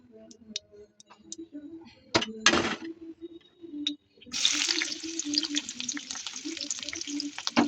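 Chicken liver with chopped onion and tomato hits a hot pan with a loud, steady sizzle that starts partway through and continues to the end, after a few brief clatters.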